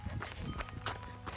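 Footsteps of a person setting off on an outdoor run, a quick steady patter of foot strikes close by, fairly quiet, with no talking.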